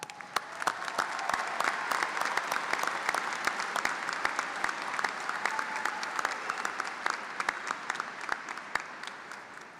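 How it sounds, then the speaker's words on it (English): A graduation-ceremony audience at a high school commencement applauds steadily, dense clapping from a large crowd that swells and holds for several seconds without a break. "A round of applause."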